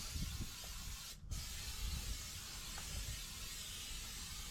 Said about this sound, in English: I'm gonna spray it in the rack so it won't stick.